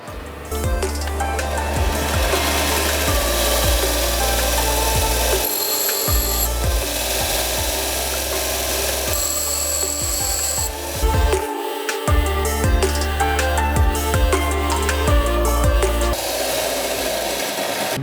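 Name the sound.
bench grinder sharpening a drill bit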